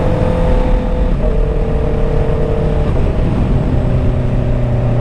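A Honda CBR650R E-Clutch motorcycle engine hums steadily while riding, a loud, constant low drone with sustained tones and a slight pitch change partway through, heard alone with wind noise.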